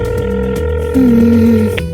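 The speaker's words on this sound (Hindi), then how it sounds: "अजीब है, फोन नहीं उठा रहा है।" An unanswered phone call rings out as a steady, loud electronic tone, sustained over a constant background with a sliding higher tone in the middle, no voices.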